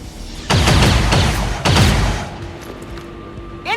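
Gunfire from the video game XCOM 2 comes as a few loud, close rapid bursts of shots with booming echoes, followed by a short trailing electronic sound near the end.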